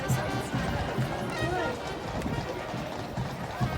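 Rhythmic clip-clop of Horse Guards' horses' hooves on pavement, steady and fairly close, with crowd chatter and street noise around it.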